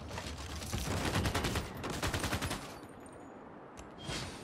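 Rapid bursts of video game gunfire as units attack in Civilization 6, loud repeated volleys forming two dense stretches of rattling shots, then a quieter gap and a final short burst.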